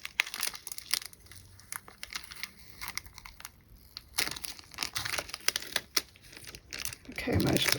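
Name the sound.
tape being peeled off cured craft piece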